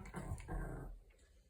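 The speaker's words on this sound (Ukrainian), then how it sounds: "А Джино гарчить" A small Cane Corso dog growls and grumbles in short, low bursts, close by, with a faint whimpering edge between the rumbles.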